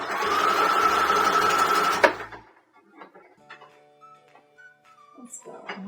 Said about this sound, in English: now we're going to start the zigzag up at the top or stretch stitch